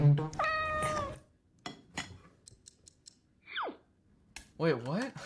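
A cat gives a clear, drawn-out meow near the start and another rising and falling meow at the end, with clicks and snipping noises between them.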